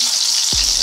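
Sausage and egg fry in a pan with a steady broadband sizzle throughout, and a louder low burst of crackling swells in around the middle as food is turned over; no one speaks.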